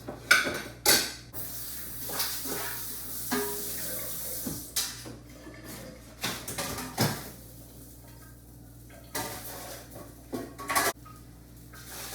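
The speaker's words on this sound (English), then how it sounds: "So I'm going to transfer this to another pot." Metal pot being handled in a kitchen while Ora soup is transferred into another pot, with irregular clanks and knocks over a faint steady hum, alongside some water running and utensil clatter, fairly close and moderately quiet.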